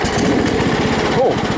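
The engine of an old farm tractor runs with a rapid, rough, throbbing chug close by, and a voice is heard over it.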